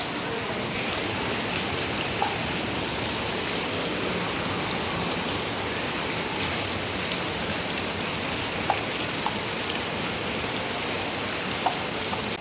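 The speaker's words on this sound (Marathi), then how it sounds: "पावसाचा काय बघा परत चालू झालेला असा पडत असा सकाळपासून पाऊस" Rain falling steadily as a dense, even wash of drops with occasional sharper drips, constant and unbroken throughout.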